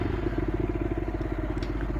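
A TVS Raider 125 motorcycle engine starts and runs with a close, steady, rapid rhythmic thumping of even firing pulses and a faint light clatter on top.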